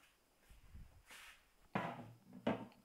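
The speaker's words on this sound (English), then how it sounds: "It's always difficult to open the box only with one hand." Cardboard egg box opened one-handed in a kitchen: faint rustles, then two sharp snapping pops of the lid near the end, close and fairly quiet, no talking.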